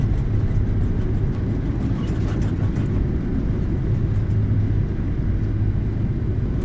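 Boeing 737 reverse thrust roaring after landing in the PMDG 737 flight sim, a loud, steady, broadband engine rumble heard without voices.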